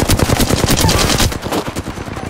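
Rapid automatic gunfire in the Mirage shooter game, a dense stream of close, loud shots crackling continuously for about two seconds with no talk.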